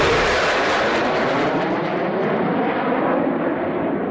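A B-1B bomber roars overhead in a show-of-force flyover, a loud, continuous broadband rumble that stays strong throughout with no voices.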